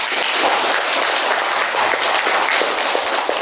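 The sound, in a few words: applause for a class presentation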